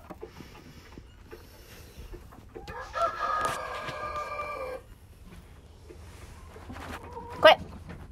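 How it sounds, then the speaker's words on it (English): A Rhode Island Red hen in a nesting area gives a drawn-out, harmonic call in the middle and a sharp squawk near the end, among quiet rustling and scattered soft clucks nearby. "Quit pecking at me, you little Rhode Island Red is a mean"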